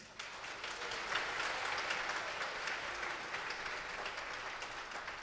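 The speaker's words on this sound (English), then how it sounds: "So please give Jessie M and Travis Wong a warm round of applause" Steady applause from an audience fills the space, a dense wash of clapping that holds at an even level throughout.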